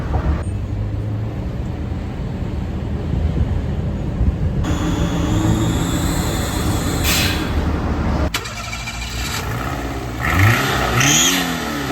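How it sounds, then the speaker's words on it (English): A car engine revs hard and rises in pitch, with a roaring, shifting drone and a brief jolt partway through, loud and close. "David doesn't know how to start a car without revving it like crazy."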